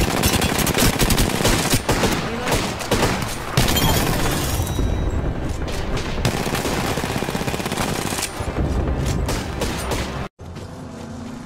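Sustained automatic gunfire in Apex Legends, dense rapid bursts running almost continuously with booming low end, cutting out abruptly near the end into quieter game ambience.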